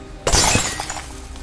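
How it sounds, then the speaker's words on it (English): Glass shatters as a battle bus window breaks in a Fortnite story, one sudden loud crash followed by a brief tinkling decay of falling shards. "he busted through the glass of the battle bus"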